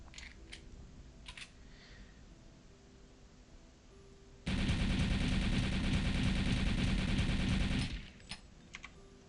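An MP40 submachine gun in Return to Castle Wolfenstein firing one sustained automatic burst of rapid, even shots lasting about three seconds, loud and continuous, with brief clicks and quieter game noise before and after.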